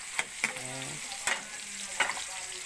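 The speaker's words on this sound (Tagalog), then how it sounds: "Gisa tayo ng bawang at sibuyas." Garlic and onion sizzling in a hot pan for tomato and egg sauté, a soft steady fry broken by a few sharp utensil clicks and stirring sounds.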